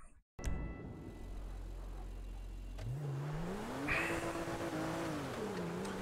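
Car engine in GTA 5 roleplay, a steady mid-pitched drone that rises as it revs up, with a rising pitch sweep and sustained acceleration at fairly close range, no voices present.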